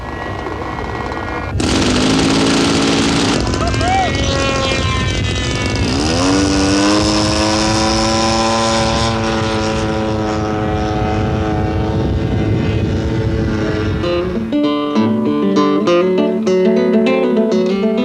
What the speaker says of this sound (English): for would-be pilots who like to fly their own, there are even radio-controlled model planes